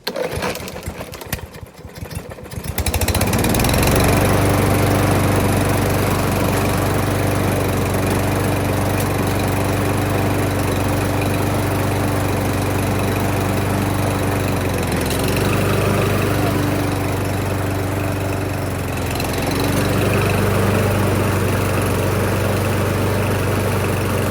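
A Husqvarna HU625 AWD riding lawn mower engine starts after a few seconds of handling noise, then drones loudly and steadily nearby, with its pitch dipping briefly midway before settling back.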